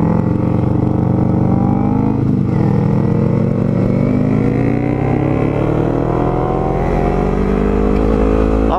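A Yamaha MT-03 motorcycle engine revs loudly up close, its pitch climbing and dipping through several throttle blips over a steady, throaty idle, continuous and dominant throughout.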